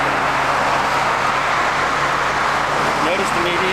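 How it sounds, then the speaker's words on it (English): Steady road traffic heading eastbound on Route 10 past the Ledgewood Mall in Ledgewood, New Jersey: continuous loud roadway wash of passing cars, with a faint tonal whine near the end. "Traffic you're looking at here is heading 10 eastbound."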